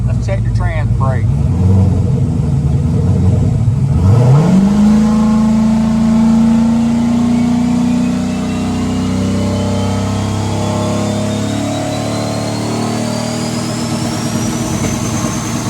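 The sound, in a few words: turbocharged car engine idling at operating temperature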